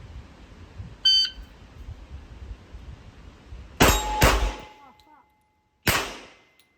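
Pistol shots fired during a shooting drill: a light metallic ping, then two sharp close reports in quick succession, and a third loud crack after a pause, with quiet between.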